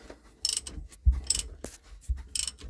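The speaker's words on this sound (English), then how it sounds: "And now you can screw the sensor back in." Oil pressure sensor on a 2008 Sea-Doo RTX being screwed back in by hand, three short bursts of close metallic ratcheting clicks with soft thuds between them, no talking.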